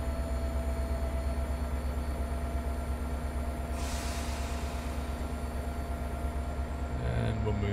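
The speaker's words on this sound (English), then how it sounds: "You hear it, you hear the engine kind of go up a bit" Simulated F40PH-2CAT diesel locomotive engine in Train Sim World 2020, a steady droning rumble with constant tonal hum that shifts and rises slightly near the end, with a brief hiss partway through.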